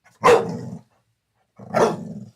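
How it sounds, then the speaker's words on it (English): A dog barks twice, loud and close, with a pause of over a second between the two deep barks. "What are you barking at?"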